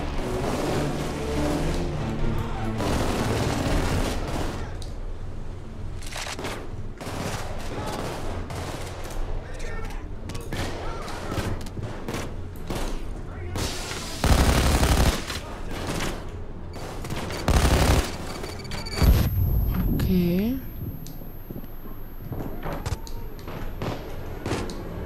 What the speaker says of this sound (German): Was schießt auf mich?